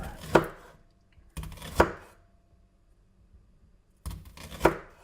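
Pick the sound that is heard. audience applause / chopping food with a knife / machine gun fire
chopping food with a knife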